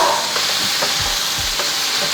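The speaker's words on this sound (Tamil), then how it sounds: "கொஞ்சம் நல்லா வதங்கட்டும்." Pumpkin pieces, tomato, green chilies and curry leaves sauté in hot oil with a constant hissing sizzle. A few soft, close stirring scrapes cut through the sizzle, and no one speaks.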